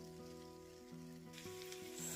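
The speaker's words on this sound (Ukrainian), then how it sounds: "виклали на розігріту сковороду і смажимо їх на олії на нижче середньому вогні" Steady sizzling of pastries frying in oil in a pan over medium-low heat, a constant crackling hiss with a low hum underneath, growing slightly louder toward the end.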